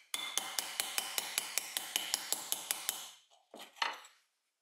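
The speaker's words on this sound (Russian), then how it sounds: "Молоточек круглый, заводской." A small round factory-made hammer tapping a metal blank into a semicircular form on a workpiece: about a dozen steady, evenly spaced ringing taps, then a couple of scraping clanks, close and loud.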